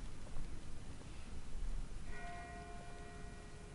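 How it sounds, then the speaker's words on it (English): Far-off bell in The Walking Dead video game rings faintly, its tone entering partway through and ringing on quietly over a low, steady background hum. "That's not the same bell as before. This one's further off."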